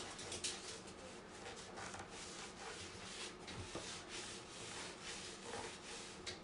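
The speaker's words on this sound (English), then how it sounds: "after, I will take a sandpaper and stress it a little bit more" A sheet of sandpaper rubs steadily across a decorative bird-themed transfer to distress it, giving a soft, continuous, close scratching with small rhythmic swells and no pauses.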